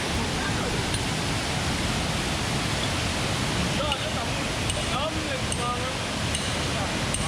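Water from the same river cascades over rocks at the Goa Rang Reng waterfall near Gianyar, a loud, steady, broadband roar filling the whole clip, with faint bird chirps above it.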